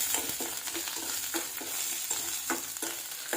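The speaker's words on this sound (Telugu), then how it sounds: "రెడీ చేసి పెట్టుకున్న ఆనియన్స్ పచ్చిమిర్చి కరివేపాకు వీటిని ఇందులో వేసుకొని కొద్దిసేపు వేగనివ్వాలి" Onions, green chillies and curry leaves fry in a pan for masala pasta, giving a steady sizzle broken by regular scraping strokes as they are stirred, with no talking.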